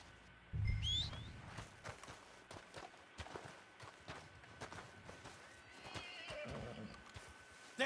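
A horse in Red Dead Online lets out a sharp, loud whinny near the start, followed by scattered hoof clops and movement over quiet ambient game sound.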